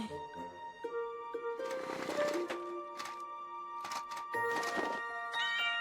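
A cartoon kitten mews several times in short, high calls over a light musical backing, each meow close and clear within a busy animated scene.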